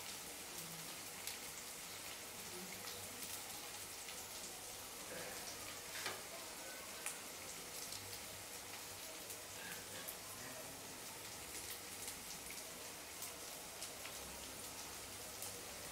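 Onion and garlic fry in a pan with a steady, even sizzle and crackle that runs throughout, faint and close, broken by occasional small pops.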